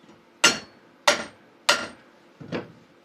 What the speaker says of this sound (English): got a spark plug socket, put it right on top there, gave her a good couple whacks